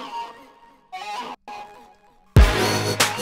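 Short vocal chops built from single sung syllables of the original vocals, stuttering in separate bursts with gaps, followed by a loud full drop with heavy bass hitting near the end, with no talking.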